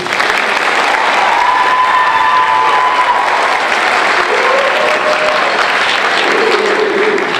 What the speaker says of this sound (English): We could give her a round of applause, please.